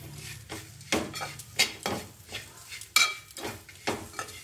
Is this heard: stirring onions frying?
yes